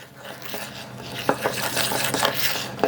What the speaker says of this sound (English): Then add about 1 tablespoon of milk and then stir well.